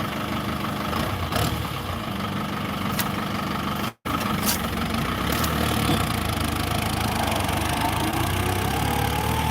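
A tractor engine runs steadily during the wheat harvest in a field, a loud continuous mid-to-low drone with a brief dropout partway through.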